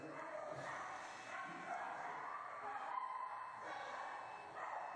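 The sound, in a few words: dogs barking outside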